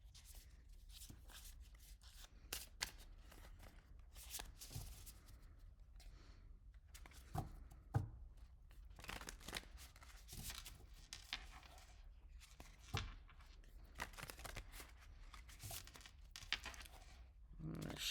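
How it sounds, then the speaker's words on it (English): Soft papery shuffling and riffling of tarot cards, with a cut, repeated in bursts over a long stretch with faint rustles and taps, close and quiet, no talking. "Shuffle and a cut."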